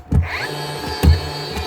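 A Dewalt DCN660 cordless second-fix nail gun with a trigger fault starts up: two close, sharp mechanical thumps about a second apart, each followed by a brief whirring hum from the motor.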